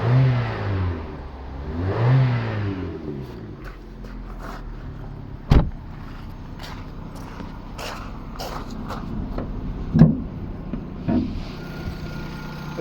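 A Vauxhall Zafira 1.6 car engine idles and revs a couple of times, fairly quiet and steady, with a few clicks and knocks nearby and no talking.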